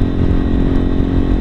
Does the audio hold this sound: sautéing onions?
no